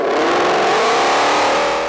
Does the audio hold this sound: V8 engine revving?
yes